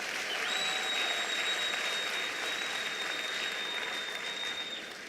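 Sustained, dense applause from a large audience at a national exam results announcement ceremony, honouring sponsors and partners; steady broadband clapping with a faint high tone running through it and no speech.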